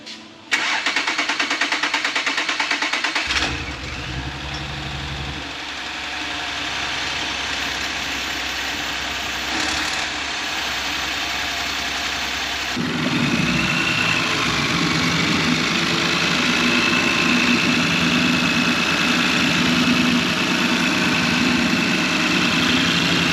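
An Audi RS4 with a 2.9 V6 VAG engine carrying a typical fault cranks and fires up, then settles into a steady close idle that grows slightly louder partway through.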